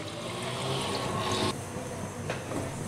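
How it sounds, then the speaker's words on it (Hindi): Half a cup of water poured over washed water chestnuts in a cooking pot, a steady close splashing pour that briefly eases and then resumes, with no talk over it. "अब इसमें डालेंगे आधा कप पानी"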